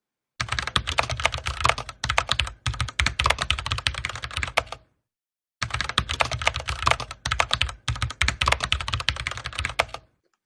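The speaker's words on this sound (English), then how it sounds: "So I'm going to type something into the AI and see what it brings back." Typing a text prompt on a computer keyboard, with rapid clattering keystrokes in two bursts of about four seconds each, separated by a short pause, close and clear with no voices.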